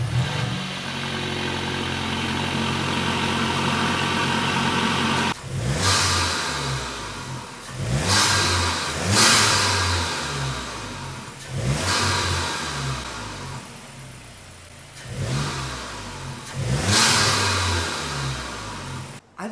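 A VW MK8 GTI engine fitted with a Unitronic intake and turbo inlet idles, then revs sharply in about six quick blips, each rising and falling back toward idle. The sound is close and loud, with no talking.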